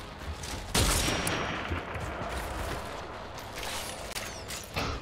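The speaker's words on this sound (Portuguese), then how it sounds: "Dois tiros de sniper" A sharp, loud sniper rifle shot in the video game Outriders cracks out over a steady game background, followed by faint mechanical clicks and rustling.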